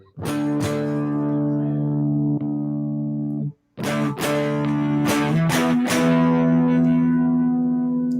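Distorted electric guitar chords ring out loudly, struck a few times and left to sustain, with a short gap of silence midway.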